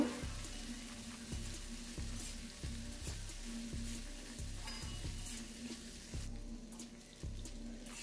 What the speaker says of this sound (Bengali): এই 3 থেকে 4 মিনিট ভাজলে এটা কাজু এবং কিশমিশটা ভাজা হয়ে যাবে